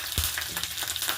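Chana dal spatters in hot oil with mustard seeds and curry leaves, a close continuous sizzle with a brief low knock near the start and no voices.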